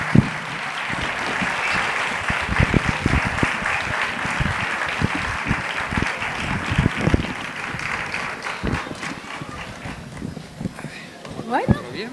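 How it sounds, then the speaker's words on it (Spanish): Neighbours at an outdoor village fiesta for the Virgin of Fátima in Aldea Blanca applaud the pregonera, a lively, uneven round of clapping with sharp nearby claps and wind noise, voices talking through it. "Fuerte el aplauso."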